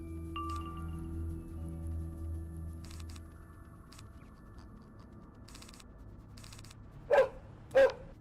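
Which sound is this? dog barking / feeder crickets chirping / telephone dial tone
dog barking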